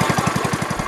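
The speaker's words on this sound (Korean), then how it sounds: "작업자의 주변에서 내내 엔진을 가동하고 있는 배가 전기로 산소를 공급하고 있는 것이다" A boat engine at a Philippine gold mine runs nonstop to pump air through a hose to a diver, a loud, close, rapid thudding chug at an even pulse, with no voices.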